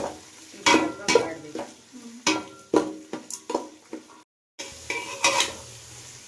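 Onions frying with green chilies in a pan for broken-rice upma, a loud close sizzle broken by repeated scraping and clanking stirs of a metal spoon against the pan, with a brief silent gap midway.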